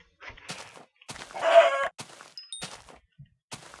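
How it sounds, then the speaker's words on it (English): Chicken clucking in a survival video game, a few short clucks followed by a louder, denser burst, with brief gaps and sparse sounds between. "Another chicken down."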